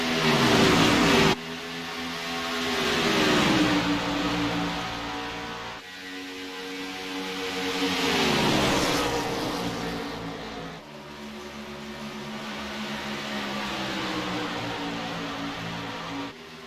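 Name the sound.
stock cars racing on track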